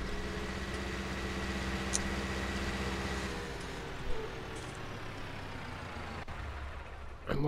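A vehicle engine in a farming game hums and drones steadily at low volume, with a few faint clicks and a brief hiss of air near the end.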